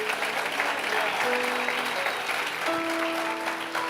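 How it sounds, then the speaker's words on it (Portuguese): A church congregation applauds loudly and continuously, dense clapping filling the room with crowd murmur and a sustained tone from instruments or an organ underneath. "Pelo amor de Deus, aplauda mais forte."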